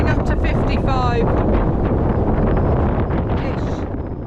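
Strong storm wind off Sicily roars steadily across a boat, buffeting the microphone with heavy rumbling gusts, a brief whistling whine near the start, easing slightly at the end.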